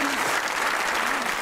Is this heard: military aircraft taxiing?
no